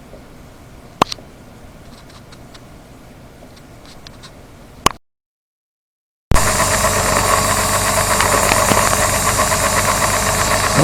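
A model ship's steam engine runs in an engine-room diorama, giving a steady, dense mechanical churn with rapid rattling and clicking. It starts abruptly after a pause, following quieter ticking and a couple of sharp knocks.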